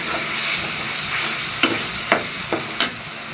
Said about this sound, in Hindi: फिर से मिक्स करेंगे।